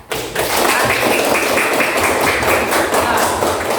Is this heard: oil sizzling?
no